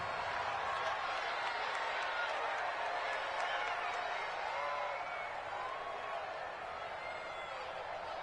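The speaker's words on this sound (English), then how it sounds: "Listen to this crowd now." A crowd cheers and roars steadily in the American football video game Madden 20 on PS4 during a tense two-point conversion attempt, with a commentator talking over the broad, sustained stadium noise.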